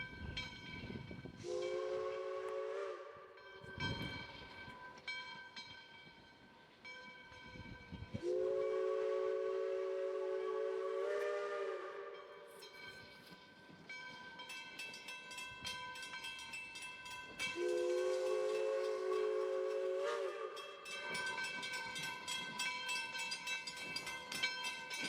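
Little River Railroad steam locomotive number 110, readying for a Father's Day steam excursion to Quincy, sounds its whistle in three long, loud blasts, with a rumbling, hissing engine between them.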